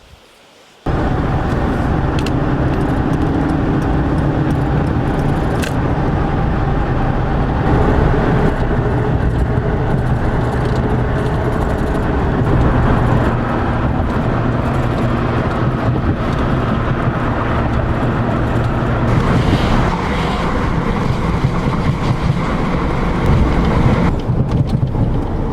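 A truck driving on the road after a long day's haul, heard from inside the cab as a loud, steady rumble and road roar that carries on without a break for the whole stretch, with no talking.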